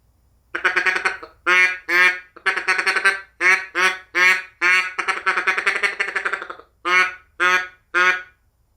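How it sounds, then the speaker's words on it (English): A duck call blows a string of loud, close quacks, some drawn out and others short and evenly spaced, with no voices. "And then what you do is you can mix in some of your quacks."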